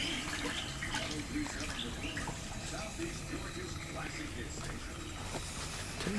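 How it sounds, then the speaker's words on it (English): A bushcraft fishing-kit piece is dipped and swished around in a bucket of water outdoors, making a continuous, fairly faint watery sloshing and hiss that lasts for several seconds with no talk. "go ahead and dip that in a bucket of water I have over here"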